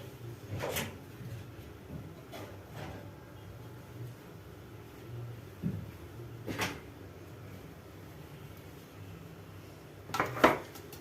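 Baking tray of poğaça pastries going into a home oven: scattered metallic clanks and knocks of tray and oven door, a few sharp bangs spread out between quieter handling noises, with no talking.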